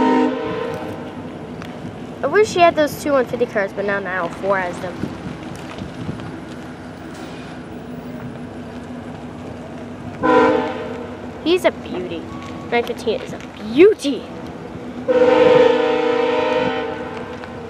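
A VIA Rail passenger train hauled by a P42DC locomotive rolls past with rhythmic wheel clatter and a couple of horn blasts, while someone talks over the passing cars.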